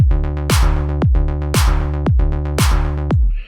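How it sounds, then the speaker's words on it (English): A looping electronic drum beat made in Caustic 3, with sharp snare-like hits over a deep, rolling synth bass line, steady and loud, with no voices. "I made a really simple drum pattern and a rolling bass line."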